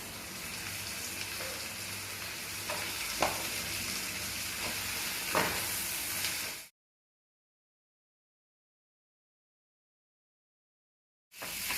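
Tomatoes sauté in a pan for a Tirunelveli-style dried fish curry, giving a steady close sizzle with a few sharp stirring clinks for about six seconds before cutting to silence.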